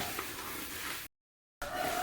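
Soft, steady crackling and light scraping of coriander seeds dry roasting in a pan, briefly cut to silence before the sizzle resumes.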